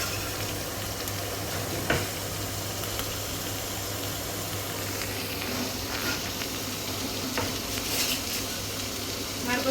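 Green chillies frying in oil in a pan on low flame for egg bhurji give a continuous close sizzle and hiss, with occasional stirring scrapes and pops, loud and steady without talk.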